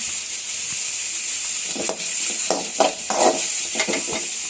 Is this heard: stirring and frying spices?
yes